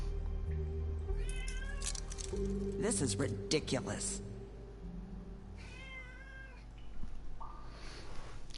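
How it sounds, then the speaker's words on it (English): A house cat meows a few times in the background, faint and intermittent beneath someone talking over voiced dialogue from The Wolf Among Us game episode. "if you can hear that's the cat in the background."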